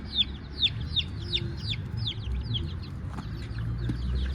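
Chickens cluck and chirp in a steady run of short calls over a low background rumble, fairly close.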